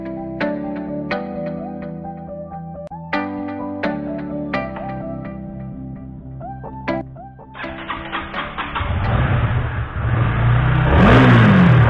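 A Honda All New CBR 150R motorcycle engine revs in a string of sharp blips, then climbs into a long, loud, rising roar at the end, with no talking.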